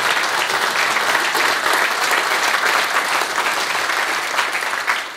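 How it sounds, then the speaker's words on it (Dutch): Sustained applause from a studio audience welcoming guest Mies Bram onto a television talk show, dense and steady clapping at full volume throughout, with no voices rising above it. "ik vraag u daarvoor alvast een applaus te geven aan Mies Bram"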